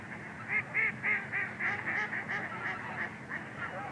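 Migratory geese at the DeSoto National Wildlife Refuge honk in a steady repeating series of nasal calls, a flock heard at moderate distance over a low outdoor background.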